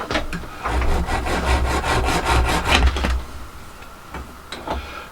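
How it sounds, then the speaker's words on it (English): A hacksaw cuts through the thin-walled metal centre tube of a window blind, 40mm from the end, in a quick run of steady back-and-forth rasping strokes that stops partway, followed by a few light knocks. "Just a hacksaw job again."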